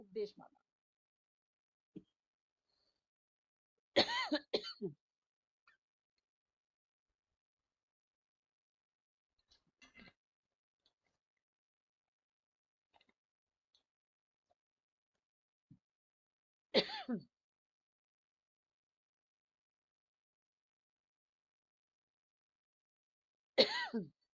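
A man coughs a few times in short bursts spread across an otherwise quiet stretch, with brief throat sounds and faint speech-like traces in between.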